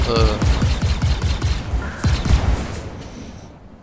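Rapid automatic gunfire during a military mission rattles out in loud, closely spaced bursts, a dense run of sharp reports that gradually thins and fades toward the end.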